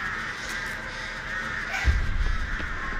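Several crows caw in the Dead by Daylight game, harsh calls repeating over a steady ambient drone, with a louder, closer burst near the end.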